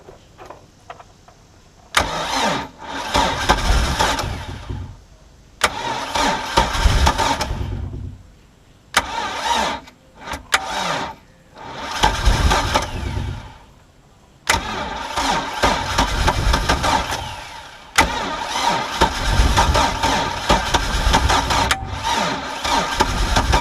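A Mercruiser 3.0 boat engine that sat unused for nine years, fitted with a new fuel pump and carburetor, cranks loudly in several long bursts with short pauses between them, catching briefly but never settling into a steady run.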